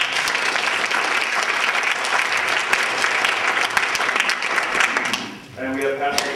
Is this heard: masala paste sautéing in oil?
no